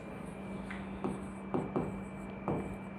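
An equation written out by hand: quiet, scattered strokes and taps of writing, a few distinct scratches over a low steady hum.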